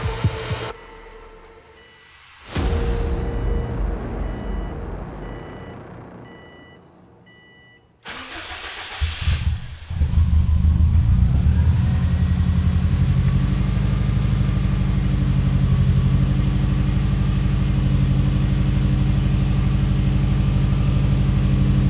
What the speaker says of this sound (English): it's finally time to go ahead and start the STI.